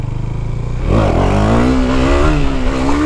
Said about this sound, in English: I'm gonna try to do a wheelie.